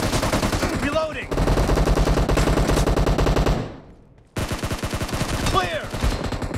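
Loud, rapid automatic fire from a SCAR-L rifle in PUBG Mobile during a team deathmatch, long sustained bursts of evenly spaced shots broken by a brief pause before the firing resumes.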